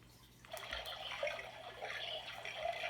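Recorded rain plays from a sound button in a children's interactive peek-through book, a steady hissing patter with watery splashes that swells slightly and continues alone without any voices.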